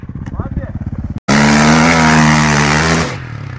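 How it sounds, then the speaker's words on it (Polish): A motorcycle roars past close by, its engine loud and sustained for about two seconds before fading, following a stretch of excited shouting. "Oj, uważaj! Motor!"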